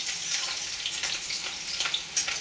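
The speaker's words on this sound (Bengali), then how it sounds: "পেঁয়াজ আর একটা কাঁচা লঙ্কা একসাথে ভাজব।" Steady sizzling of onions and a green chilli frying in a pan, a continuous crackly hiss with small pops, close and moderately loud, no talking.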